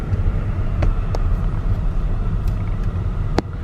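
A 2019 Porsche Cayenne S rolls slowly through a parking lot on a test drive, giving a low steady engine and road rumble with a few faint clicks and knocks.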